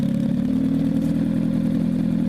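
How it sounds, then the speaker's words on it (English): A worn-out, smoking engine in a 2016 demolition derby car idles with a steady, rough, low rumble and a faint clatter, close by and unbroken, with no voices. "There you go, it's idling down now."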